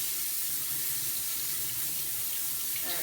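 Cool tap water runs steadily from a faucet into a sink, rinsing quinoa for a back-to-school breakfast; a continuous, fairly close splashing stream with no talk over it.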